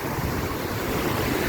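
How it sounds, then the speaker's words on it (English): Rough sea surf breaks on a Thai beach, a continuous loud wash of waves mixed with wind buffeting the microphone, with no voices. "Today seas get crazy."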